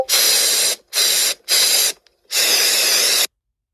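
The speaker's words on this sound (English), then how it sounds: "I will pepper spray your eyes." Pepper spray bursts as a cartoon sound effect: four loud, close hissing sprays, three short and one longer, separated by clean silences and ending abruptly.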